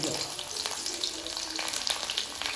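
Crushed garlic fries in hot oil with a steady, close crackling sizzle and light stirring noises.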